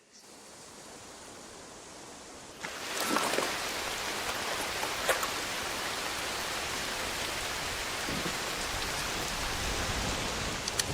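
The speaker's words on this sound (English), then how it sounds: "Of course it's raining." Steady rain pours down in an ARC space port video game scene, starting quieter and swelling into a loud, dense wash of falling water after a few seconds, with no one speaking.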